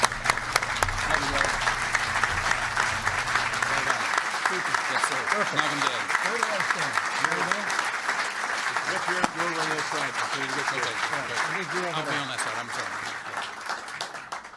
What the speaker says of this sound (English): How about another round of applause for Secretary Rick Perry